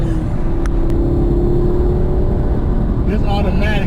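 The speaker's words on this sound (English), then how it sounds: "he's drifting" A 2016 Camaro 2SS drifts on a race track, its engine droning steadily with a whining tone and faint tyre squeal near the end, under a busy wind-buffeted cabin ambience.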